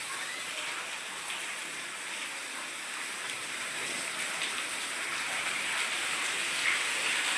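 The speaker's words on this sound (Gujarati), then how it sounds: "આવો વરસાદ પડ્યો છે આજ" Heavy rain pours steadily on a village house in Gujarat, a dense, even hiss of falling water that holds constant and close with no voices.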